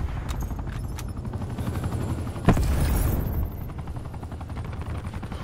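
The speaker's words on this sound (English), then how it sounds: "I just called in my attack helicopter." An attack helicopter in the Call of Duty Black Ops 4 shooter game, a thumping rotor drone mixed with bursts of gunfire and a sharp blast, loud and continuous.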